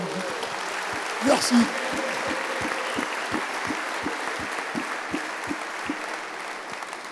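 Sustained applause from a crowd at a French club gathering honoring an under-20 world champion team, steady clapping throughout with a brief voice speaking over it.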